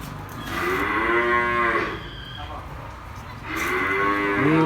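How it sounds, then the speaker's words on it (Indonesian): Cattle newly bought for a farm, among them Brangus and Limousin animals, let out two long, loud mooing calls close by, separated by a short pause with only background noise. "ini sapi-sapi yang telah dibeli oleh beliau"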